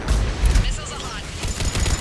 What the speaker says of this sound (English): Missiles away. Firing another salvo.